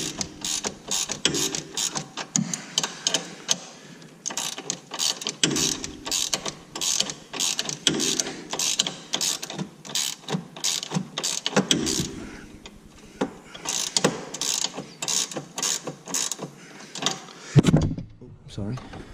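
A ratchet tightens a 17mm nut on a Can-Am X3 front quick-detach sway bar fitting, with rapid close clicking in bursts and short pauses between strokes.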